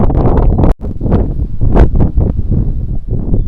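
Wind buffets the microphone near hanging weaver bird nests, a loud, continuous rushing roar that swells and dips in gusts, with a brief dropout partway through.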